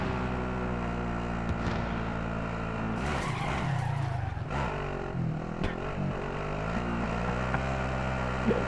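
A car in GTA racing along with a steady engine drone, breaking into a loud skid with squealing tires midway, then settling back to the engine hum; no talking.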